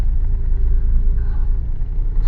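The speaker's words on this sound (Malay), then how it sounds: "hari ni boy nak test drive kancil yang convert engine" A Perodua Kancil whose engine has been converted and fitted with an automatic gearbox in place of the manual rumbles low and steadily during a test drive, close by and without talk.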